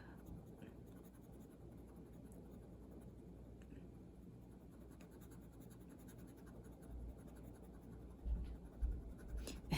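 A pastel drawing being erased on paper, a faint close rubbing and scratching that continues steadily and grows slightly stronger near the end.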